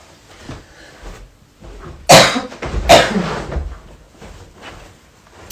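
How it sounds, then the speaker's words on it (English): A person indoors in a smoky room lets out two harsh, close coughs a second apart, with quieter shuffling and breathing around them. "I know my microphone has a mute button to prevent you from hearing that cough"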